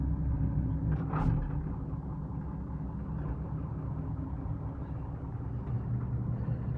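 A Valmet 8050 tractor with a six-cylinder 115 hp SISU engine runs steadily, a close, continuous low diesel rumble with no speech over it.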